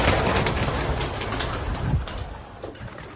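Racing pigeons in a Croatian one-loft derby loft, cooing softly and steadily amid a busy wash of bird noise, with faint wing flutters and no talk over it.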